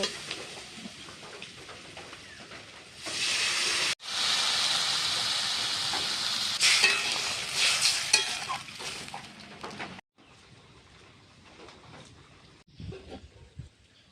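Spiced mixed vegetables (taro, eggplant, potato, long beans) frying in a pan as water is poured in, bursting into a loud steamy sizzle with stirring scrapes, then settling to a quieter simmering hiss.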